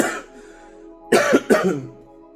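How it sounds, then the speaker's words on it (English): Two harsh, wet coughs close up, following a brief vocal sound, with a short pause between them. "Every time I feel like I gotta cough up more mucus"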